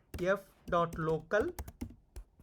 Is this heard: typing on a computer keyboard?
yes